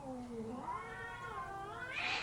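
Two cats fight with long, wavering yowls and caterwauls that rise and fall in pitch, ending in a sharper, higher screech, close and steady throughout with no other sounds.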